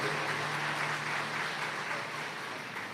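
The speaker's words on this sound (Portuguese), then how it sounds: "Pode aplaudir se vocês entenderam." An audience at a Catholic faith course applauding, a faint, even patter of clapping hands heard from a distance, continuous and slowly fading toward the end.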